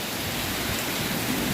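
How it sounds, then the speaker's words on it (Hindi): Heavy rain with big drops pours down steadily in Italy, a dense, even hiss of downpour filling the whole moment at moderate loudness with no voices. "और बारिश जो है ना बहुत मोटे मोटे दाने जैसे"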